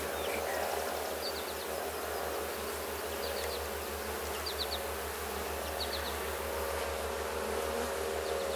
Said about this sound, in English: there's a lot more bees in here than there were a week ago